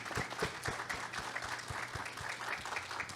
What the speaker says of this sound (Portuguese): uma salva de palmas para essa turma